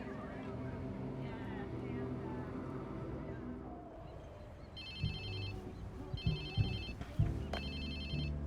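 In-game phone ringing in Watch Dogs 2, a repeated electronic ring in short bursts over a steady background hum of the game scene.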